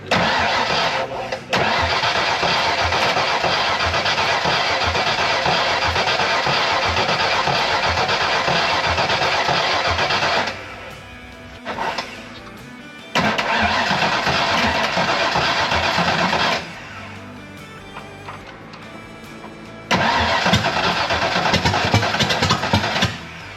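Engine being cranked and trying to start, with long loud bursts of starter grinding and rough firing that stop and resume several times, separated by short quieter pauses.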